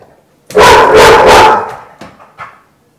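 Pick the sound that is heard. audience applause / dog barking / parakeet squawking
dog barking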